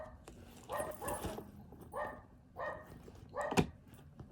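A dog gives several short barks and yips in a row, spaced about a second apart at moderate loudness, the last one sharper and louder.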